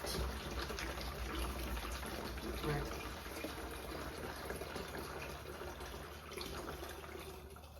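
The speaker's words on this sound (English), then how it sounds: "So we are going to pour in a second quart." Liquid is poured steadily from a quart container into a gallon container, a continuous rushing, splashing flow that lasts throughout at moderate loudness.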